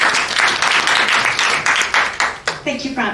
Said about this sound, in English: give Ms. Leung, Christina a warm welcome and a big applause